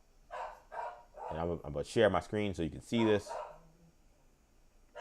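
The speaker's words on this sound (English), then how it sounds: "Apologies if you hear my dog in the background." A pet dog indoors lets out a quick run of sharp barks and yips in the background, clustered in the middle of the moment, while someone talks nearby.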